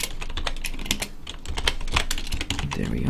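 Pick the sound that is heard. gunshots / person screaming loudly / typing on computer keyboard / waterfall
typing on computer keyboard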